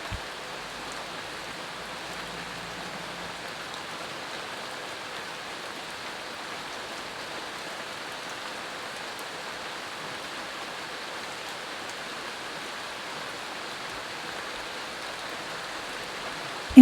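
Steady relaxing rain, a soft even hiss of falling drops that continues unbroken and gentle throughout, with no voices.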